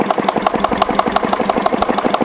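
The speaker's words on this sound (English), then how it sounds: "So now we ensure that the engine rotates at 720 rpm." Wittie engine idling at 720 rpm with no load, a steady rapid chugging beat with regular firing pulses, close and loud with no talk.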